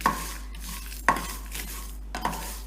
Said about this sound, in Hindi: मीडियम फ्लेम पर हमारा जो मसाला है वो भुन जाएगा